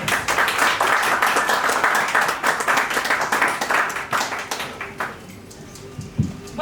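Audience at a panel event on personal data applauds with a burst of fairly close hand clapping that thins out and fades after about five seconds, leaving near quiet with a few stray taps.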